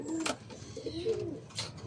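Pigeons or doves coo softly in a video game, a few low rolling coos with faint chirps between, quiet and close.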